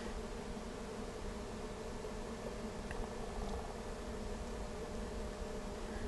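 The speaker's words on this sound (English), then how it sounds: "there's a very dense clump of bees right there" A dense, steady buzzing of a swarm of honey bees, continuous and fairly close, filling the whole stretch without pause.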